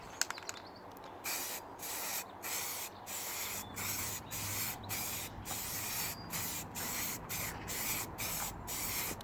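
Repeated short hissing bursts of a spray paint can on a Lexus IS200 body kit, close by, with brief gaps between each spray in a steady rhythm.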